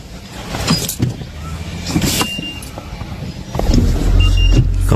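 A 2019 Honda Insight starts up close by after a key fob has been programmed. Rustling and a faint voice come first, then a deeper steady rumble swells in and holds.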